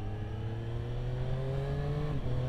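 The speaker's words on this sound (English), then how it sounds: "I can't get over how lively this engine is now" A Triumph Street Triple 765 RS motorcycle engine revs up close. Its rising, whirring three-cylinder tone climbs steadily, then briefly drops and picks up again near the end, with no talking.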